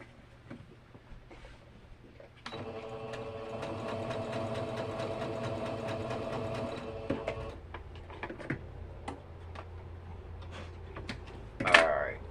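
A sewing machine stitches down a plate mat, starting with a steady mechanical whir that runs for about five seconds, then stops, followed by quieter handling sounds and a brief clack near the end.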